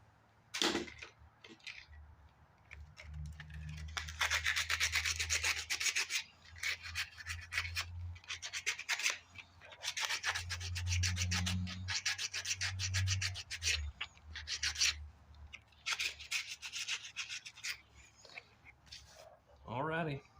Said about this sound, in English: I'll sand it with 80 grit